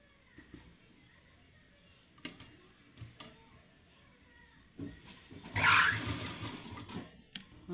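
Sewing machine top stitching umbrella fabric, with scattered clicks and handling taps before a short, loud burst of machine stitching near the end.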